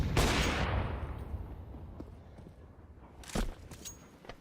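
Pistol shots in Counter-Strike, a loud crack at the start followed by scattered fainter shots and a sharp burst later, with game ambience underneath.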